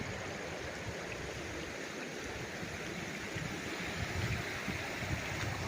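A river running along the boundary of a farm lot in Cavinti, Laguna, its steady broadband rushing water filling the scene, close and continuous, swelling slightly toward the end.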